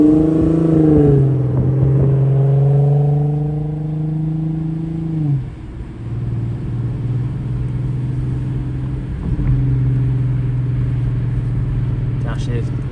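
An Infiniti Q50 with test pipes, its engine droning loud and close with a rev that drops as it downshifts, then settles into a steady rumble with another brief shift.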